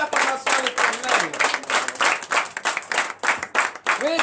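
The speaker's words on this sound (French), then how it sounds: "Donnez encore une vive acclamation à l'Éternel" Church congregation in Benin applauding in worship, a dense patter of clapping mixed with shouts and cheering voices throughout, moderately loud.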